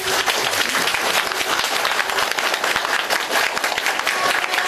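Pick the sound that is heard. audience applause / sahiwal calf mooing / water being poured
audience applause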